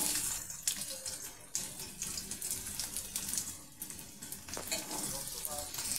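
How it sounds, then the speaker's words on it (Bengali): Potatoes sizzle and fry in a pan while a spoon stirs them, a dense steady hiss with scraping and clinking of the utensil, close and continuous. "আলু দিয়ে ভালো করে নাড়াচাড়া করে নেব। আলুটাকে ভালো করে ভেজে নেব।"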